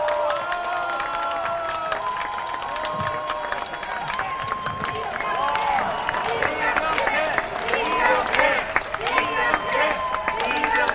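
Applause and cheering from an audience at a Seoul National University forum, greeting a KAIST professor as he is introduced; steady clapping with crowd noise lasting throughout, swelling slightly toward the end.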